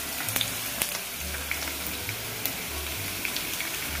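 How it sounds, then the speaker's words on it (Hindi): Onions frying in oil in a pan for a Dhaba-style masala bhindi, a steady broadband sizzle close up with faint scattered pops and clicks, no one talking. "अब हम 2-3 मिनट तक हम इस प्याज को भूनेंगे"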